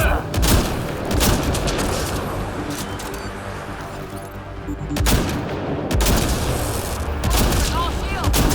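Gunfire in the video game Mass Effect Andromeda, loud bursts of shots and booming impacts in clusters, with voices talking over parts of the fighting.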